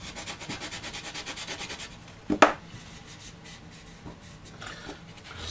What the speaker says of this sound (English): do your best to completely remove the seam here, and just sand it out completely.